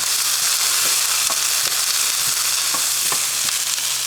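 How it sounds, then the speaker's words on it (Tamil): Okra (lady's finger) stir-fried in a pan over high flame, a loud continuous sizzle with sharp intermittent clicks and scrapes of stirring, no voices. "ஸோ அதனால் ஹை ஃப்ளேம்லேயே வச்சு வெண்டைக்காவை நல்லா வதக்கணும்."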